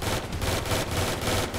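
Sustained machine gun fire in GTA V during the Cayo Perico heist, a loud continuous rattling burst with dense rapid shots running the whole moment, no talk over it.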